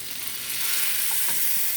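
Vegan butter sizzling in a pan, a brief bright crackling hiss that swells slightly, close and alone.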